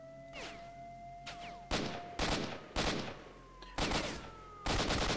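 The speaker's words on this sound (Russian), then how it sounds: "Это называется стрельба от бедра." Hip-fire gunshots from the video game S.T.A.L.K.E.R.: Shadow of Chernobyl ring out as a series of sharp, loud bursts, several rapid shots and separate volleys spread over a few seconds.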